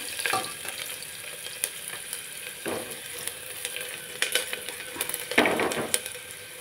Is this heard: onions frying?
yes